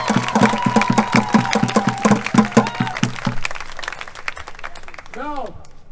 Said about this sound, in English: want to give you guys a round of applause for being here